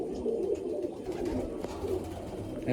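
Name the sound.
pigeons cooing in a loft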